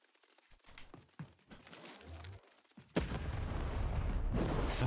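Cannon fire in the video game Lost in Random, a series of booms and impacts leading into a loud, sustained blast and rumble that fills the second half.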